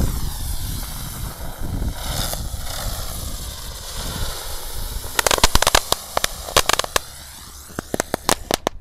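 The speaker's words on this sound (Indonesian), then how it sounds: "mercon teratai kinciran. Kita Bisa nyalakan berputar ini. Iya, kita nyalakan 6 sekaligus ini." Spinning lotus firecrackers, six lit at once on a Ramadan afternoon, hiss and whirl steadily before a burst of sharp crackling pops breaks out in quick irregular clusters over the final seconds.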